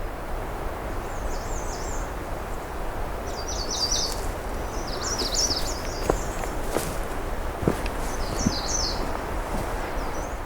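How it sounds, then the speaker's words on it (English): A myrtle warbler, or yellow-rumped warbler, gives high, thin chipping ticks in short clusters on a quiet June afternoon at a pine-wooded point. The calls come faint and some way off against soft rustling and a few light footsteps. "I can hear the ticking of a myrtle warbler, also known as yellow-rumped warbler"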